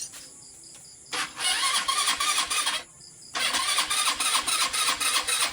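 A Suzuki Rusi Royal 125 motorcycle that has sat unused for two months, with a stuck carburetor, struggling to start: two loud bursts of cranking and rough engine noise, the first about two seconds long and the second about three, with a quieter idle gap between.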